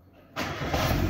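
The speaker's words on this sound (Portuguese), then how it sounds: "Mexer o motor de arranque, a gente dá aí pelo menos 5 partidas" A 2004 Peugeot 206 engine fires up after a starter bendix repair, a brief quiet moment then a sudden loud catch into a steady running roar, close by.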